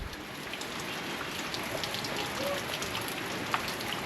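Rain falls steadily outside a house, a dense even hiss of drops on surfaces with a few scattered louder patters, continuous throughout.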